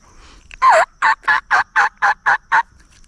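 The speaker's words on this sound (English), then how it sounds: "I heard them gobble" Wild turkey gobbling during an afternoon hunt in Georgia: one loud, close gobble made of about eight rapid, evenly spaced rattling bursts over two seconds, with no talk.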